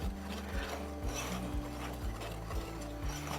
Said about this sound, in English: Just whisk that together